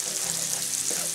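Paprika fries in oil in a paella pan, a short, loud, even sizzling hiss with no voices.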